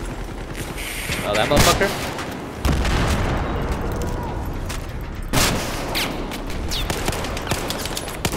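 Battlefield 4 combat: dense bursts of gunfire and booming explosions roll continuously, with sharp loud impacts near the start and middle, while a player talks over the din.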